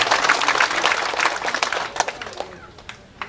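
An audience at a regional election-commission gathering in Sorong Selatan applauds, dense clapping near and fairly loud that thins into a few scattered claps.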